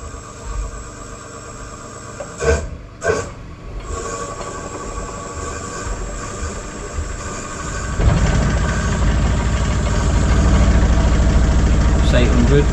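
A wood lathe turning at 500 RPM while polishing a walnut cake stand gives a steady close hum and whir that grows louder and fuller partway through, with a person talking over it.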